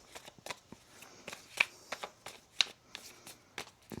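Tarot cards are shuffled close up, giving a soft run of papery riffles and taps with a few sharper slaps, quiet and uneven in rhythm.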